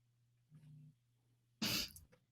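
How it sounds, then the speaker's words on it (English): A low hum and a short intake of breath, then a single sharp, loud sneeze bursting out and quickly fading. "I'm going to sneeze"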